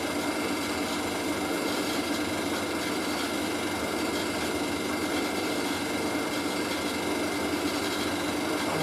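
A pump runs steadily on a honing machine powered through an inverter, circulating oil while a BSA main bearing bush is honed: a continuous, even mechanical whir with a high-pitched whine, constant in level and alone throughout.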